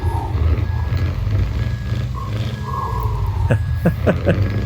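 A Scania T500 truck with open exhaust in Euro Truck Simulator 2 gives a deep, rumbling engine drone with a throaty exhaust roar, steady throughout, loud and close, with a few sharp clicks near the end.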